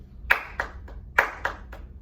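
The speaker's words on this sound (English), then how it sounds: "Clap it for me real quick." A small group in a classroom lesson claps two sets of three sharp, close hand claps, crisp and evenly spaced, with no talking.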